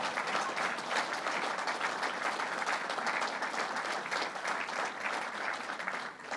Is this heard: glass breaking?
no